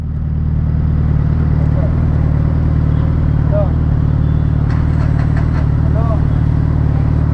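A Suzuki Hayabusa motorcycle idles steadily nearby with a deep, even engine rumble that holds for several seconds, with faint voices in the background.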